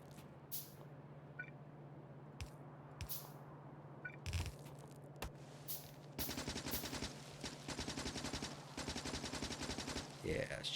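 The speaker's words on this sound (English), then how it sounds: "Yeah, shooting trees." Rapid gunfire fills the second half of a quiet video game scene as a character shoots at trees, with bursts of shots over a steady low hum after a few sparse earlier sounds.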